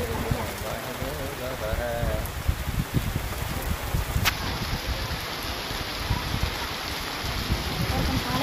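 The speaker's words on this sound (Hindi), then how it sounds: "बारिश बहुत ज़्यादा आगे से ज़्यादा तेज़ हो रही है" Heavy rain pours steadily in Multan, a dense continuous hiss of falling water with the texture of downpour, while people can be heard faintly in the background.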